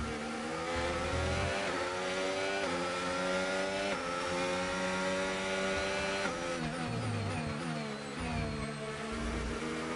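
AI-driven race cars accelerate hard in the F1 25 racing game: a loud, continuous high-pitched engine whine climbing through the gears, with several engines overlapping and no talk.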